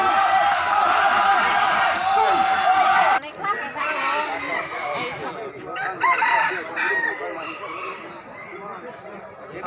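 Several bantam roosters crow loudly and repeatedly over one another at a crowing competition in Surat Thani, Thailand, with clucking and a murmuring crowd in the background.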